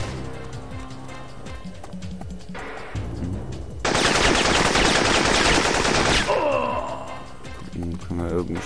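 Video game gunfire in Syphon Filter: rapid bursts of shots in a busy game soundscape, with a loud sustained roar of fire in the middle.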